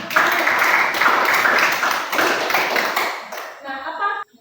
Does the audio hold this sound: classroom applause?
yes